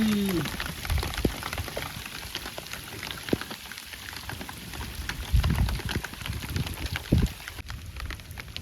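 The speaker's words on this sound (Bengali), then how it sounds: "চলে আসছে বৃষ্টি।" Heavy rain pours down on a Sundarbans river during a fishing trip: a steady close hiss with scattered sharp drop impacts and occasional low thumps.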